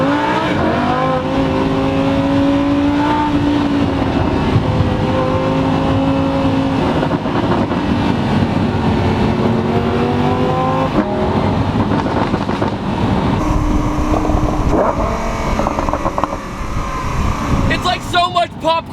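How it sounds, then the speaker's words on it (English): Lamborghini Huracan V10 engine revving continuously through gears, a loud droning exhaust note rising and dropping, with popping crackles on downshifts and a voice talking over it. "It's like so much popcorn every time you downshift."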